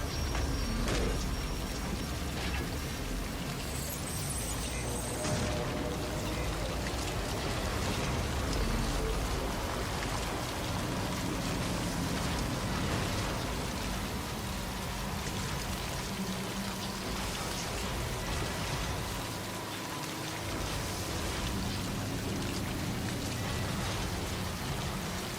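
Steady rain pours in Death Stranding on PS5 Pro, a dense, continuous hiss of drops hitting the ground that lasts throughout at an even level with no voices.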